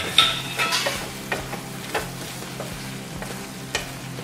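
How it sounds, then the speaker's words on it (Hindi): Chicken pieces stir-fried in a pan of boiled chilli sauce for chicken chilli dry, giving a steady close sizzle with repeated scraping stir strokes and no talking. "सॉस उबल चुका है, अब हम इसमें ये चिकन के पीसेस ऐड करते हैं।"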